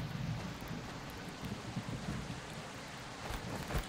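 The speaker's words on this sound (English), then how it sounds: "because it's raining" Steady rain in the Project Castaway survival game, a continuous hiss of falling drops with low rumbling gusts, moderately loud and uninterrupted.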